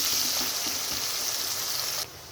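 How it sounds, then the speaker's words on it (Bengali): Steady, close hiss of food sizzling in hot oil, continuous and even throughout before cutting off abruptly at the end. "পেঁয়াজটাকে ভালোভাবে ভেজে নেব"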